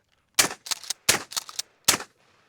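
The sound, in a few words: 12 gauge shotgun slug shots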